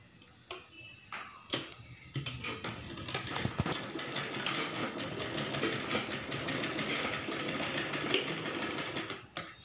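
A sewing machine stitching a blouse, starting with a few separate clicks, then settling into a fast, rhythmic ticking run of stitches, close and fairly quiet, with no talking.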